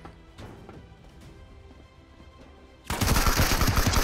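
Automatic gunfire in the video game Marauders: quieter game ambience with faint clicks gives way to a sudden, loud, sustained burst of rapid shots that continues to the end.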